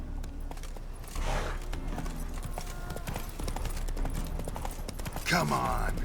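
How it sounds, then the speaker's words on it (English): Horse hooves clip-clop at a steady walking pace in The Witcher 3: Wild Hunt, close and continuous under game ambience, with a brief whinny near the end and a voice talking over it. "Come on, random horse."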